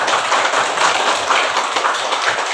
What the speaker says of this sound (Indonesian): Kasih apresiasi dulu, tepuk tangan.